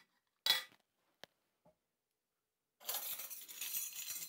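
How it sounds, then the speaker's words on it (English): A spoon clinks sharply against a mug a few times, then scrapes and stirs steadily as 70% dark chocolate cacao chips are mixed into a chocolate mug cake batter, close and fairly quiet. "Stir in your cacao chips, 1 to 2 tablespoons."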